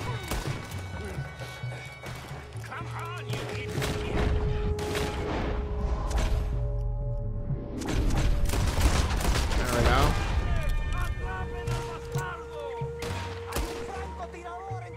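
Rapid gunfire from a Red Dead Redemption 2 firefight, with repeated loud shots and bursts that form a dense, continuous barrage over a game soundtrack, with voices heard intermittently.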